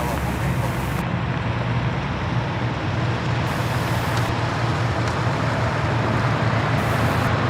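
Trucks and road traffic near the Charlotte Douglas airport in North Carolina give a continuous broadband rumble that holds steady throughout, with a voice speaking over the vehicle noise.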